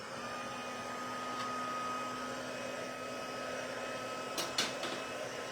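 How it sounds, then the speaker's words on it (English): An embossing heat tool runs with a steady, even blowing whir like a small hair dryer for the whole stretch. A few faint clicks and taps near the end sit over the hum. "I'm going to turn on my heat tool."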